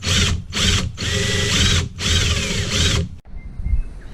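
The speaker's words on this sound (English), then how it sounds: "just going to go drill a hole in this grommet for that to go into" Power drill boring a hole in a rubber grommet during a Subaru Forester breather install, several close, loud bursts of whining motor separated by short pauses, ending abruptly with quieter handling noise.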